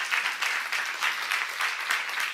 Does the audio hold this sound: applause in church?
yes